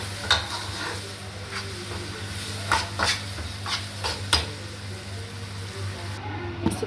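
Shakshuka stirred in a frying pan during Egyptian home cooking: a handful of sharp spatula scrapes against the pan over a steady low hum and faint sizzling, close by, with no talking.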